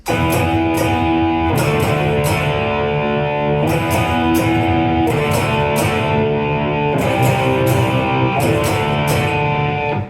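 Sustained distorted electric guitar power chords ring continuously, loud and close, with chord changes every couple of seconds and no silent muted gaps.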